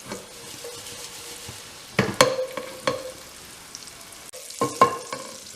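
Mussels cook in a pot with chilies and white wine, giving a soft steady simmer and sizzle broken by several clattering stirs and pot knocks, close by and with no talking.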